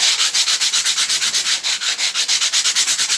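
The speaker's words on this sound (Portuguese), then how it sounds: "lixar ela, viu? Lixou a peça" Sandpaper rubbed by hand over a wooden piece in steady, rapid back-and-forth strokes, a close, rhythmic scratchy rasp with roughly seven strokes per second and no talking.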